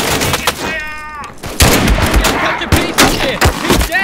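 Loud, close gunfire from a WWII video game set in St-Lo: repeated sharp rifle and machine-gun bursts in quick succession, with a shouting voice amid the shots.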